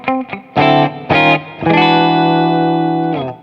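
A Yamaha Revstar electric guitar on its second humbucker pickup position plays a few short, distorted, effects-laden notes, then a long sustained chord ringing out loud and close.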